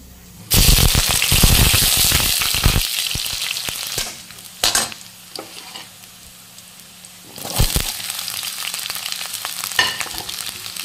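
Onions frying in a pan until reddish-brown give off a loud, crackling sizzle in bursts, with stirring scrapes between, the sizzle fading to a low hiss before flaring again near the end.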